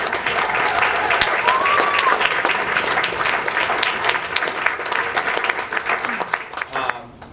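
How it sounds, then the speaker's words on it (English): Audience applause at a live music event in a distillery, dense and steady clapping from a sizeable crowd that holds for about six seconds before thinning out near the end. "One more round of applause."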